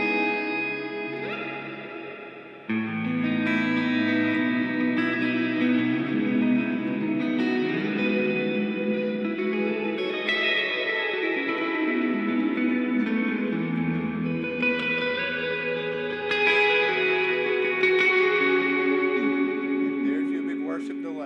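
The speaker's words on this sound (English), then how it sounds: "now let's turn on some delay" Electric guitar played through delay and plate reverb pedals for an ambient worship tone, sustained chords ringing with echoing repeats and a long washy tail, loud and continuous with a brief dip near the start.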